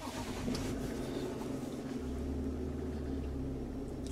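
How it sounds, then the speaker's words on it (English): A car engine turns over and settles into a steady low idle of about 530 to 550 rpm, a continuous moderate rumble with no talk over it. "We're going to go ahead and start the engine now."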